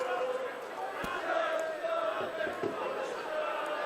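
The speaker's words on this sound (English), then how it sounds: "the fans on the Post Office Road, Tirrison, singing loud, singing proud, cheering the boys home as Dane Chisholm converts that one" A big crowd of rugby fans sings and cheers from a distance, a steady roar under a voice talking over it.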